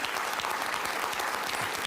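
Studio audience applause on Bill Maher's talk show, a dense, even burst of many hands clapping at full volume for the whole stretch.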